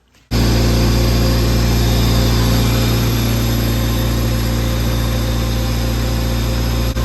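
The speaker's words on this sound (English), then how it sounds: "Hopefully after a little bit it starts idling down." A cheap right-hand-drive car engine idles while warming up, starting abruptly and holding a loud, steady, droning idle with a constant hum and no talk over it.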